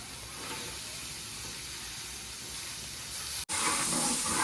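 Sliced onions frying in a pan for a fish curry give a loud, steady close-up hiss that breaks off for an instant, then returns brighter and fiercer.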